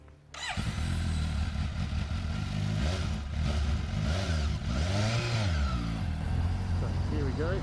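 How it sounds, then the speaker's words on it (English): Suzuki GSX S750 2023 motorcycle engine starting off on a ride, a loud, close engine note that climbs and falls through several revving accelerations, with wind noise and a rider's voice talking over it. "So here we go, first ride on a GSX S750."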